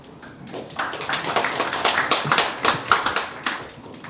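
An audience at a venture camp demo day claps to welcome a startup presenter, a crisp burst of many hands that rises after a moment, holds at moderate volume, then thins out.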